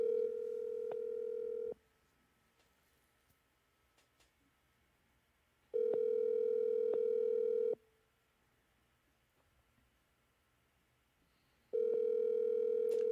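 An outgoing telephone call ringing on the line: three steady electronic ring tones about two seconds long, separated by roughly four seconds of near silence, clear and with no talking.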